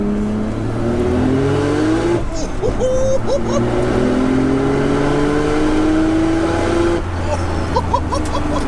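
Nissan 200SX fitted with a swapped Nissan GTR engine making 530 bhp, accelerating hard from inside the car: two long rising engine pulls separated by a sharp gear change, loud and close with turbo whistles.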